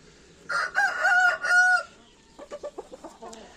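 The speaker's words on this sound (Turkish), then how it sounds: "Gördüğünüz gibi damızlık tavuklar bunlar arkadaşlar." Breeder chickens sound off up close: a rooster crows one long call, then a quick run of short hen clucks follows, with no one speaking.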